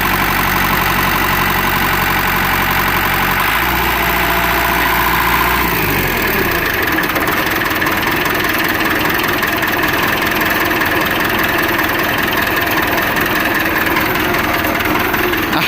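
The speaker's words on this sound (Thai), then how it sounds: "เครื่องยนต์ไม่มีไอระบายเลยนะครับ" A Kubota L1-265 four-wheel-drive tractor's diesel engine idles loudly and steadily nearby, its rough low throb shifting pitch partway through, then settling into an even drone.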